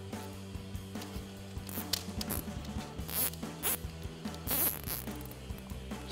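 A plastic zip tie is fed under a part and pulled taut while installing an aFe Scorcher GT power module on a Jeep Gladiator JT, giving a run of close, ratcheting zip bursts with crisp clicks.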